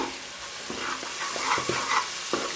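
Tomatoes frying in hot oil for a fish curry, sizzling steadily while a spoon scrapes and stirs through them in short strokes.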